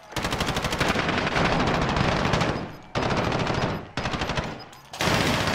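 Rapid automatic gunfire from a Call of Duty Warzone match rattles in long, loud, close bursts separated by brief pauses, with nearly continuous shots throughout.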